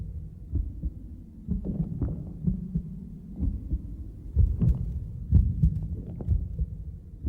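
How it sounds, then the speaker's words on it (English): A mother's heartbeat is heard from inside the womb as a muffled, low, rhythmic throbbing under a constant dull roar, steady and close throughout. "above the constant roar of its mother's heartbeat"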